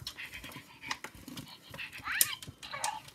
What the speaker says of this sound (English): Turn it on. And it barks.